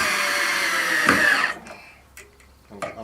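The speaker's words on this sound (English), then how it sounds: "I'm putting the screws in" A power drill whines steadily as it drives screws into 2x4 lumber while building a lean-to room addition, then stops abruptly, followed by quieter clicks and handling noises.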